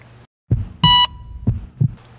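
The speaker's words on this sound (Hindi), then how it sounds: "दिल की धड़कन डिडिक डिडिक डिडिक" Heartbeat sound effect with low thumping beats in a lub-dub rhythm, interrupted by a short bright electronic beep; close and loud with no talking.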